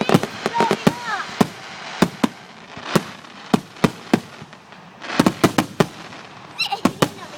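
Fireworks exploding outdoors in a rapid series of sharp, loud bangs and crackles, some clustered close together and others spaced apart, with whistling rockets rising between bursts and faint talk in the background.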